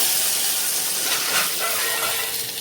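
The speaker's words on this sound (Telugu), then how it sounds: "ఇప్పుడు గుమ్మగుమ్మలాడే చారులోకి మనము తాలింపు అనేది యాడ్ చేసేస్తున్నాను" A loud, continuous sizzle and hiss of hot oil tempering with spices poured into hot rasam, steady and close, with a steamy rushing texture throughout.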